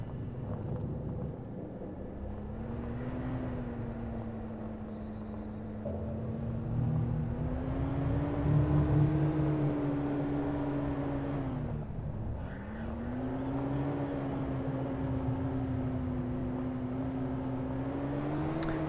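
A vehicle engine in the game DayZ drones steadily while driving, a close, continuous rumble with a wavering pitch that dips and climbs as the vehicle shifts speed, with no talk over it.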